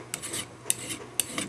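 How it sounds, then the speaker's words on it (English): Hand file rasping across the rail of a hand-laid N scale model railroad turnout: a few short, close strokes in quick succession, with no voices. "let's start filing a little bit more here"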